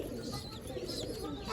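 Pigeons kept on a rooftop in Pakistan coo softly and continuously in the background, a low murmuring under steady ambient noise with occasional faint chirps.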